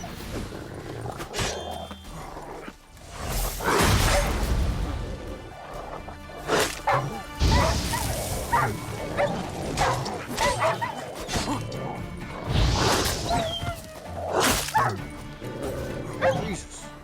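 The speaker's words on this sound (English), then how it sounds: "Just dogs over here." Dogs in The Witcher 3 bark, yip and snarl in loud irregular bursts over about seventeen seconds, mixed with growls and whimpers, with a voice talking in places.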